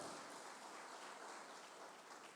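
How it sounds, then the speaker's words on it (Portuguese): A church congregation claps together during a sermon, producing a steady, dense wash of applause that stays even and moderately distant for its whole length, with no voice heard over it. "As palmas para o Senhor."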